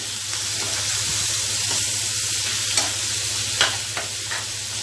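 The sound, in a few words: stirring wild lemon pickle in a pan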